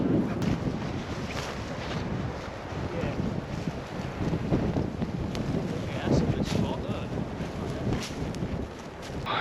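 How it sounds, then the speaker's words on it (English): Strong wind buffets the microphone on coastal dunes near Calais, a loud continuous roar with gusting rumble throughout. "It's very windy once we've come up on top."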